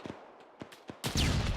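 A flashbang grenade goes off in Arma with a sudden loud, sustained blast after a few faint scattered thumps, close and harsh, and no talking.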